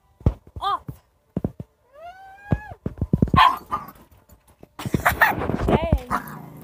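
Two household dogs bark, yip and whimper in short, close bursts while playing, loud and uneven, with a voice mixed in between the barks.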